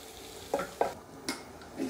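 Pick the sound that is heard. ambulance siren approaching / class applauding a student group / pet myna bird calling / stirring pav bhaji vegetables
stirring pav bhaji vegetables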